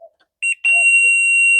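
A laser level receiver beeps at an off-grid cabin building site, giving two short tones and then a loud, steady continuous tone that holds to the end.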